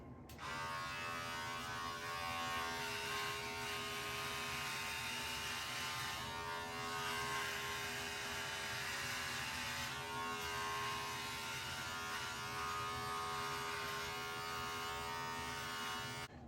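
A Remington QuickCut Pro HC4300 hair clipper runs steadily in turbo mode, a close, continuous high-pitched electric buzz and whine with slight wavering, no talking.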